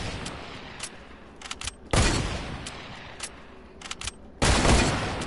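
Video-game gunfire crackles in a 1v1 match: scattered sharp single shots, then two heavy sustained bursts of rapid fire that swell loud and close, with quieter gaps between.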